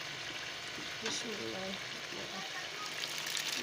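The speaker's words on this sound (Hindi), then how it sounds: "अब मैं दाल शामिल कर रही हूँ।" Lentils added to potatoes frying in a pan for a spicy aloo dal dish give a steady, moderate sizzle throughout, while someone speaks briefly over it.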